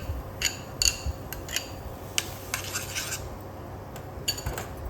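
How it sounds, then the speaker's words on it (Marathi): A mango, sugar and paneer mixture for mango rasmalai is spooned into a pan, producing a handful of light, close metallic clinks and taps against a quiet background. "हे जे मी आंबा, थोडी साखर टाकली 2 चमचे आणि पनीर, हे मिश्रण आधी मी ह्यात टाकते"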